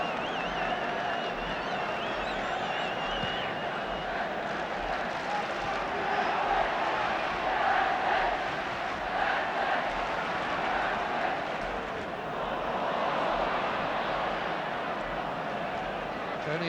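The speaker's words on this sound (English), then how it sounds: "The crowd now beginning to get behind United." Football crowd at a Manchester United home match against Derby County, a steady broad roar of supporters cheering and clapping throughout, with a commentator's voice over the top.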